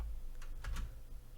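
A few quick, soft keystrokes on a computer keyboard as a short terminal command is typed, faint and close with no talk.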